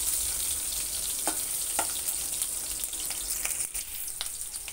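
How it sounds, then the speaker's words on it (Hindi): Ginger and garlic sizzling in hot oil in a pan while cooking Maggi noodles, a steady close crackle with a few sharper pops and light stirring, no voices. "अदरक को जैसे ही मैंने चटकने दिया, उसके बाद इसमें लहसुन डाल देना है।"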